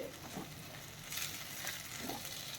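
Jowar bhakri with fresh coriander sautés in a pan, a soft continuous sizzle with faint scraping stirs, quiet and close, no talking.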